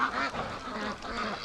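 Muscovy ducks give a few low, breathy calls close by over an outdoor background.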